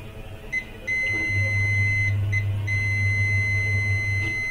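A continuous electronic beep from a tester during circuit board testing, starting about a second in and holding steady to the end, close and clear over a low hum.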